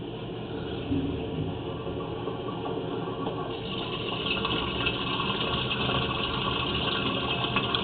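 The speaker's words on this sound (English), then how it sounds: "we're going to do a toilet flush real quick, just to wash that root off" Toilet flush sends water gushing down a sewer pipe to wash a tree root off, a continuous rushing, churning flow that grows slightly louder partway through, with an engine-like rumble underneath.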